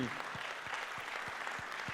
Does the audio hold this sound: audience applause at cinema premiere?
yes